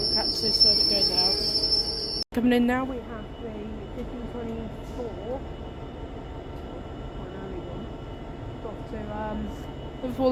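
Avanti Pendolino train passing through Stafford station on the West Coast Main Line under cautionary signals, a steady rail rumble with squealing wheel tones and a brief gap, with people talking over it.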